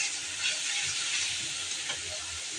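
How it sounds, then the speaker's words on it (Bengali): Spices sizzle steadily in a hot pan with a chopped green chilli, a broad continuous frying hiss with faint stirring scrapes, close and alone without talk. "মশলাটা কষিয়ে নিচ্ছি"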